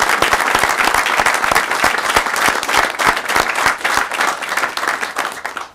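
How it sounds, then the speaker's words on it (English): A press-conference audience applauds the Georgia governor's appointment of Kelly Loeffler to the US Senate. Dense, loud and sustained clapping from a roomful of people carries evenly throughout with no pause. "we can clap for that"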